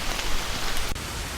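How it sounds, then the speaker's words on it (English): Steady rain patters as a dense hiss of drops on surfaces, even and continuous with no voices, with one brief sharp tick near the end. "These are all rain effects, but they're all a little different"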